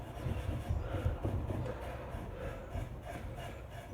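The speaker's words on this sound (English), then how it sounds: "You might be wondering why I don't seem to be scrubbing with the grain on the end here" A wooden dining table's end grain is scrubbed by hand in soft, repeated rubbing strokes that stay quiet and steady throughout.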